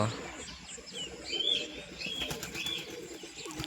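Pigeons in a home flock, just bathed, give soft scattered chirps and calls with a flutter of wings, fairly close, over a busy background hum, with brief low talk.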